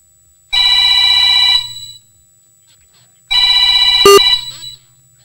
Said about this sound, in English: Someone's calling in.